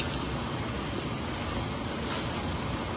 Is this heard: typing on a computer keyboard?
no